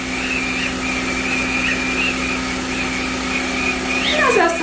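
A corundum microdermabrasion device hums with a steady suction whine as its head draws over skin, a constant mechanical drone with a faint rising tone near the end, while a voice speaks over it.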